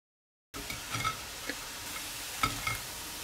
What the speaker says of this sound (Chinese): 将丸子给它炸至全部浮起，变成这种金黄色，就可以捞出来了